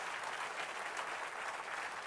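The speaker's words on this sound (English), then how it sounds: "3 people clap, and I'm like, that ain't good enough." A brief spatter of applause from a handful of people in a church congregation, thin and somewhat distant, holding steady for about two seconds with no talk over it.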